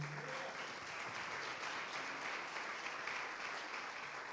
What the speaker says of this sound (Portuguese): Aplauda o nome do Senhor